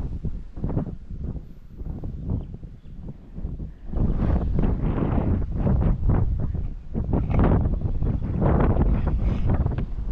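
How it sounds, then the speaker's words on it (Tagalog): Strong gusts buffet the microphone in low rumbling bursts, growing heavier and more continuous partway through, with no one speaking. "Lakas ng hangin eh."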